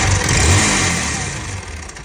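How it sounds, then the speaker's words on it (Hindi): A damaged motorcycle engine with worn rockers runs roughly up close, with an uneven knocking, rattling beat throughout its steady drone. "रॉकर डैमेज हो जाएंगे, इंजन में गट गट गट गट गट गट गट गट आवाज आने लगेगी"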